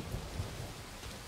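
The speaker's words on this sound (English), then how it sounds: "And it's raining." Steady rain in a Star Wars film scene from Rogue One, a soft, even wash of downpour with low rumbling underneath, fairly quiet and continuous with no voices.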